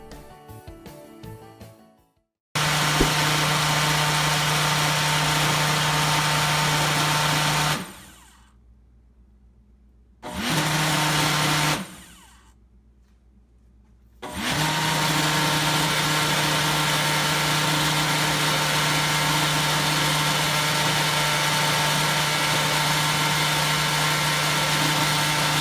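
Cosori Professional personal blender motor whirring loudly and steadily, cutting out twice for a few seconds before starting up again and running continuously to the end.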